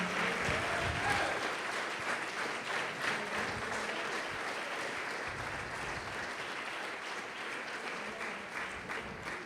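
A church congregation claps in praise, a thick, continuous wash of applause from many hands filling the room without pause and with no talking over it.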